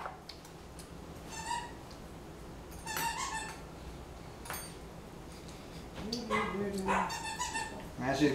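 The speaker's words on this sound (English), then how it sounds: "She's getting the dogs involved." Dogs bark and whimper in a home kitchen, short yips scattered through the stretch and louder, busier barking toward the end, with people talking faintly in the background.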